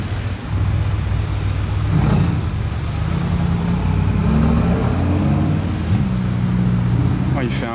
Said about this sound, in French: Oh, il fait un bruit le G Mansory